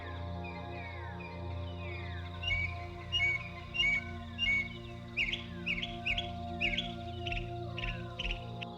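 Many small birds chirp and tweet in quick, repeated bursts among large African animals, the calls sharp and fairly close, over a steady low rumbling background with no talk.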